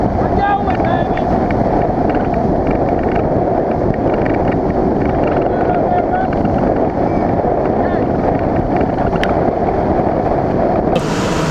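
Motorboat ride on West Boggs Lake in Indiana, a steady loud rush of engine and wind buffeting the microphone throughout, with water noise and no clear talk.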